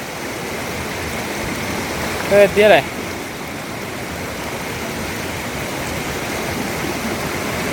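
A waterfall near Chooralmala in Wayanad roars in a steady, dense rush of falling water, with a brief spoken word rising over it.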